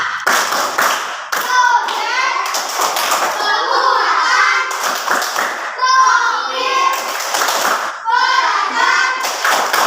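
A fourth-grade primary school class performs a rhythmic clapping routine, sharp clustered claps in a patterned beat mixed with children's voices chanting together in unison throughout.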